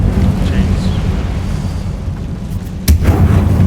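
An Incendio fire spell goes off in Hogwarts Legacy, a rumbling, booming burst that flares sharply near the end over a steady low roar of combat.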